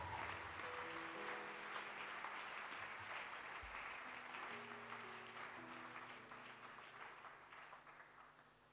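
A church congregation applauds steadily throughout, a dense even clapping that gradually fades toward the end, with sustained musical tones from an organ or keyboard underneath.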